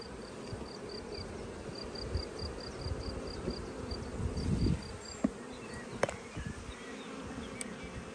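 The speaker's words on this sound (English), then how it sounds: "I split this one harder by the look of it, really hard, and it's still full of bees and brood and hatching brood." Honey bees buzzing around an opened split colony hive, a continuous close insect hum with faint steady high chirps in the background and a few light knocks near the end, no talking.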